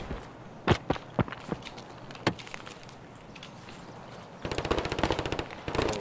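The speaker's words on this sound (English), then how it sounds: "That's an RPK, isn't it? That one's like some fast firing." An RPK light machine gun fires in Escape from Tarkov, first as a few scattered single shots and then as a rapid sustained burst, fairly distant and moderately loud, with footsteps in between.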